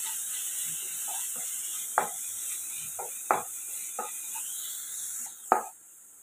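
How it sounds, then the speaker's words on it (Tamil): Onions sautéing with ginger garlic paste in a pan, a bright steady sizzle broken by several distinct scraping strokes of a spatula at irregular intervals, close up with no talking. "இஞ்சி பூண்டு பேஸ்ட் இதோட சேர்த்து வதக்குவோம்"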